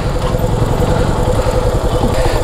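A motorbike engine idles roughly and loud nearby, a continuous chugging rumble with uneven pulses, on a trip near Bogalake, Thanchi.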